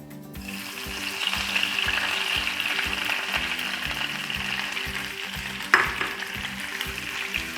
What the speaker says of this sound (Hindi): 3 चीज़ों का हम तड़का बना लेते हैं।